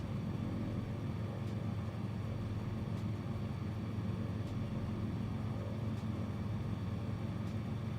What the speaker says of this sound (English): It's a weird engine noise.